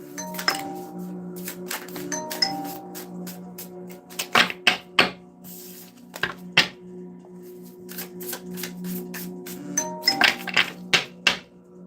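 Crisp rapid riffling bursts of playing cards being shuffled, two main flurries separated by pauses, close up, over a faint background hum.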